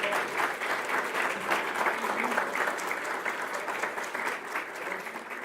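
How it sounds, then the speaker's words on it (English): Audience applause for a high school ROTC unit at a community meeting, a steady, dense wash of many hands clapping that holds at an even level throughout. "Please give the Blair High School ROTC a round of applause."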